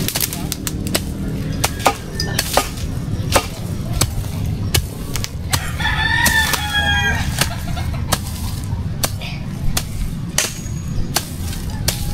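A rooster crows once midway through, a loud close call that rises above a steady run of sharp knocks and clicks and soft clucking from nearby chickens.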